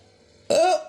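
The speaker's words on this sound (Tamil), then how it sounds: "ஐயோ, விக்கல் வேறு வந்துருச்சே." A single sharp hiccup from a person, close and fairly loud, rising out of a quiet room and then fading quickly, with no talking.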